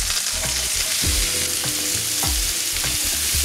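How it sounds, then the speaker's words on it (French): Onions sizzle and fry steadily in clarified butter in a pan for a butter chicken base, a continuous bright crackle with occasional stirring scrapes and low clunks, close and loud with no talking. "cuire les oignons dedans."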